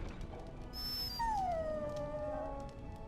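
A dog in the video game Dragon Age: Origins lets out a drawn-out, high whimpering whine that bends downward, heard faintly over a low game ambience.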